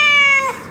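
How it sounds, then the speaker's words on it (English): A cat gives a single clear, close meow, loud and tonal, lasting under half a second before fading into quiet room sound. "Let's see what golden nuggets Goldie the cat has for us today"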